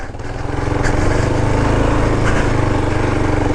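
A Kawasaki KLR 650 motorcycle engine labors steadily as the bike is ridden off road through mud, a loud continuous drone with slight surges in pitch and no talking.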